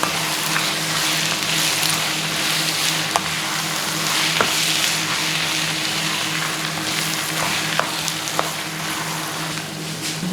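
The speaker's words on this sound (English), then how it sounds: "Stir this a bit." Tomato egg sauce frying in a pan, a dense continuous sizzle that stays loud and close throughout, with occasional faint clicks of a utensil stirring underneath.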